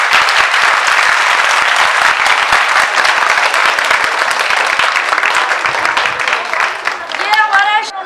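An audience at a school function in Bani Gala claps loudly for the teachers, dense continuous applause that thins toward the end as a few voices and a whistle-like tone rise.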